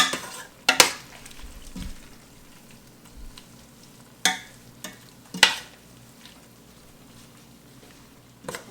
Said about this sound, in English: Let's let it simmer so it turns into cream here